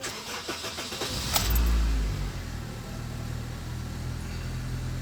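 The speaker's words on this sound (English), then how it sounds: "I'm about to start the engine now." A 2006 Honda Civic with 123,000 miles cranks briefly and catches, then settles into a steady low idle, recorded close and loud.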